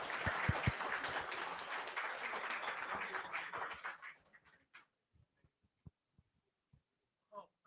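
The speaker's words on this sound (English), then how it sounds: "Guys, can we have a huge round of applause, please, for him?" Audience applause at a React and React Native meetup: a dense burst of crowd clapping for about four seconds, then fading to a few scattered claps.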